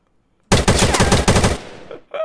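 A burst of rapid automatic gunfire from a gun in the video game Minecraft, loud and close, a rattling volley of about a second before cutting off into a brief quieter sound.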